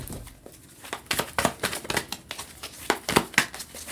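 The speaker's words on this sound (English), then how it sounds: "And let me give this a bit of a shuffle." Tarot cards are shuffled by hand in quick bursts of crisp riffling and flicking, close and fairly quiet, with short pauses between the bursts.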